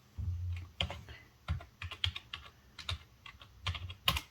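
A name is typed on a computer keyboard, with irregular, crisp keystroke clicks in uneven bursts, heard close and alone in a quiet room.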